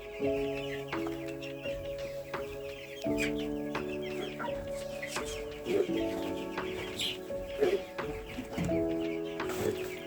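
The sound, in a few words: broiler chicks clucking in coop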